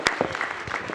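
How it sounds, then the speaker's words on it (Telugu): Applause from a press audience at a film team's media Q&A, a short burst of clapping heard indoors with a dense, steady patter at moderate level. "ఒక్కసారి అందరూ భైరవ్కి గట్టి ఒక చప్పట్లు కొట్టండి మా కోసం"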